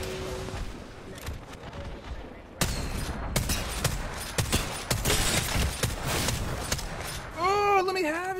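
Video game shooter gunfire bursts in rapid volleys, dense, loud and close, with repeated crackling shots through most of the stretch and a voice talking over parts of it.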